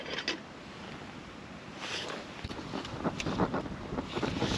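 Strong wind gusts buffet the microphone outdoors beside a Trangia camping stove, a steady roaring rush with louder bursts building toward the end, no voices.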